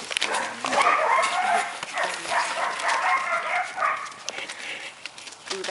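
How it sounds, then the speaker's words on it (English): Several dogs bark and yip repeatedly from a short distance next door, a busy overlapping chorus with a whimper or two mixed in. "dogs barking next door, got him worked up."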